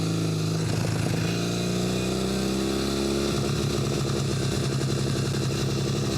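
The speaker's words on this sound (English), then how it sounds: "I think the best part about this bike is the way it sounds. Just sounds like a real motorcycle." A Norton motorcycle engine runs steadily up close, a loud, beefy throbbing idle with a deep, even rumble that fills the whole stretch without talk.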